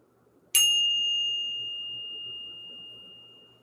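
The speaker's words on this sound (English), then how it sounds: "let's go ahead and ring the bell" A single small bell is struck once in a quiet room to clear the energy, giving a bright ding that rings on and slowly fades over several seconds.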